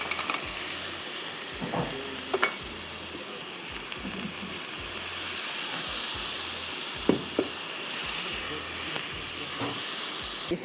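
Four tablespoons of red onion sizzle in a tablespoon of hot oil with coconut for a fish curry, a steady, close, broadband hiss with a few faint clicks and pops throughout.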